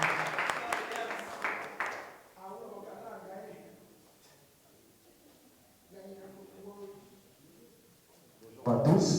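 Press-conference audience claps briefly at the start, then the applause fades and someone speaks in French over a quiet room, with a burst of clapping returning at the end.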